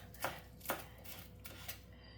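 Fresh coriander leaves being finely chopped with a knife, faint crisp taps striking a board in an uneven rhythm, about four or five cuts in quick succession in a quiet room.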